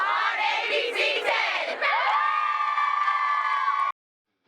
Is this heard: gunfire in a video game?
no